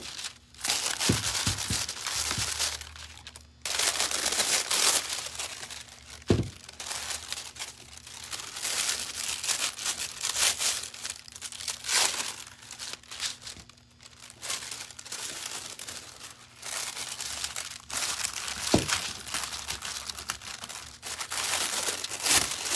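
Aluminium foil crinkles and crumples close up as it is pressed onto antlers, a dense, continuous crackling with short pauses and a faint steady hum underneath.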